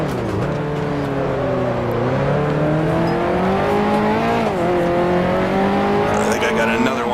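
Vintage 1955 Formula One race cars roar in the Grand Prix Legends sim, a steady close engine drone whose pitch climbs and dips through gear changes over seven seconds, with no talking over it.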